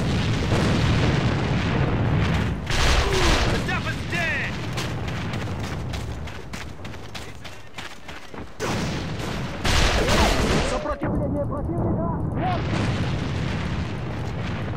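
Grenade blasts and gunfire in the Alliance of Valiant Arms shooter game, loud booming explosions and rapid crackling shots, dense and continuous, with a brief lull before another burst.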